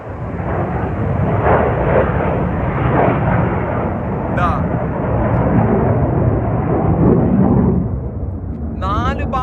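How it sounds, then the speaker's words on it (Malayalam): A loud, continuous jet roar rumbles for several seconds as military fighter jets at an American military base power up and take off, then eases slightly near the end. "നാല് ദിശയിൽ നിന്നും വിമാനങ്ങൾ പറന്നുയരുന്നു"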